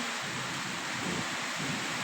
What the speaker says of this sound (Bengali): সবার সাথে একটু বাইরের বৃষ্টিটা একটু শেয়ার করলাম